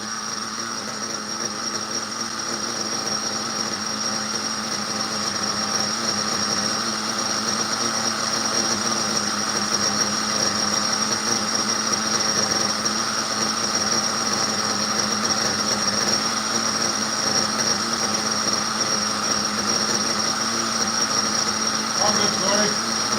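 An Italian-made RC model engine idles steadily for the whole stretch, a constant buzzy drone with a high whine on top and no change in pace.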